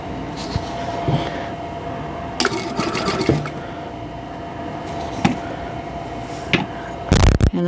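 A sewing machine stitches a quilt seam with 50-weight thread, running in short bursts of rapid whirring stitches separated by brief pauses, with a clunk and a faster run near the end; no talking.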